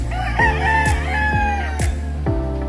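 A white Kelso rooster in a backyard game farm crows loudly and close by, a long rising-and-falling cock-a-doodle-doo, with short clucks and another crow starting near the end.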